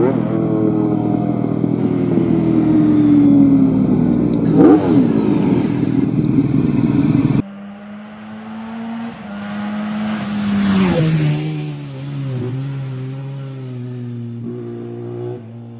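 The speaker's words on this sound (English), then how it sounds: "the 90-degree engine fires two cylinders close after each other with a bigger pause between another two." A four-cylinder motorcycle engine revs hard up close, its droning pitch climbing and falling through several throttle blips.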